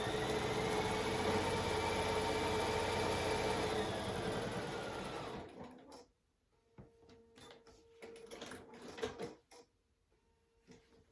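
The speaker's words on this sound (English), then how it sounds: "And I'm just going to continue top stitching." A sewing machine top stitching a fabric project bag with 50 weight Aurifil thread, running steadily and close for about six seconds, then stopping, with light handling clicks and rustles afterward.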